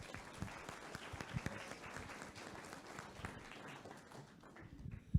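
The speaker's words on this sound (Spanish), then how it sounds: "Un aplauso, por favor, para el maestro." Quiet, steady applause from an audience at an anniversary event welcoming a teacher to speak, continuous scattered clapping at some distance, with no voices over it.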